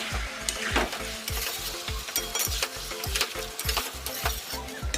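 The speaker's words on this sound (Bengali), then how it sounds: "এবার ভালো করে আমি কষিয়ে নেবো আবার।" Chicken stir-fried with rose water and kewra water for a biryani, a steady sizzle broken by regular scraping strokes of a spoon against the pan, close and busy with no talking.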